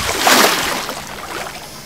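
Ocean waves wash onto a seashore, a single breaking surge swelling loudly and then fading into a softer, lingering hiss of sliding water.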